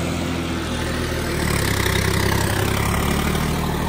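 A John Deere 5310 tractor engine runs steadily at about 1700 rpm, a close, loud diesel drone with a constant throb that firms up slightly partway through, with no voices.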